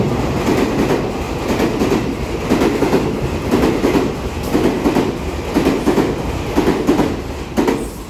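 A Puyuma express train, TEMU2000 series tilting set, passing through Ruifang station in Taiwan: loud, sustained rumble with rhythmic clickety-clack of wheels over rail joints, close and continuous with no talk.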